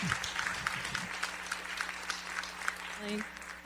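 An audience applauds at a forum on tolerance and autism, giving a faint, steady patter of clapping while a speaker's voice carries over it.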